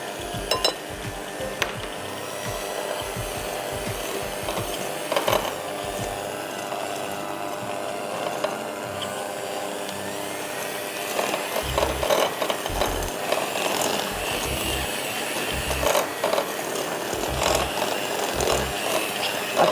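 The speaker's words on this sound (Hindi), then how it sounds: "मक्खन बीट करिए, उसमें ब्राउन शुगर डालिए" Butter and brown sugar being beaten together for cardamom biscuits, a steady mechanical whirring and rattling with irregular clicks that runs throughout at moderate level, growing busier with clunky knocks toward the end, with no talk.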